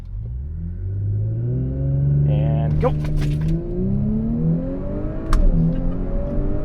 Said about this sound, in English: We're going to see if launch control works.